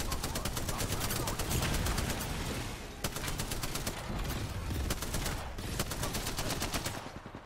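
Shots from a Wingman pistol and other weapons ring out in an Apex Legends fight as rapid, dense bursts of sharp cracks. The firing is loud throughout, with a few gaps and some single louder reports.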